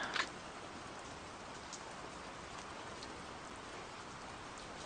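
Steady rain patters on a surface with a soft, even hiss and faint ticking drops, continuous and moderately quiet, with a brief louder knock at the start.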